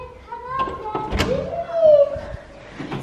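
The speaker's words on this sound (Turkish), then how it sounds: "Sen mi kapı açtın bana?" A household door is opened at home with a short thunk and a light creak, heard close and mixed with voices talking nearby.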